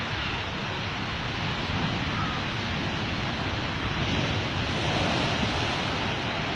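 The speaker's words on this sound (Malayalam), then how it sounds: "തിരയുടെ ഫുള്ള് വെള്ളവും കടലിലേക്കാണ്. കടലിലേക്കല്ല, കരയിലേക്കാണ്." Sea waves surge onto the Kerala shore during heavy rain, a dense, steady roar of surf and rain that continues without pause, close and loud.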